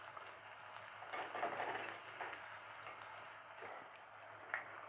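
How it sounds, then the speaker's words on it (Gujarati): Papdi puri dough discs frying gently in hot oil, a soft, steady low sizzle with faint bubbling and occasional light stirring clinks, fairly quiet and close, no talking. "આપણે એકદમ જેન્ટલી અને શાંતિથી આપણે ફ્રાય કરી લઈશું"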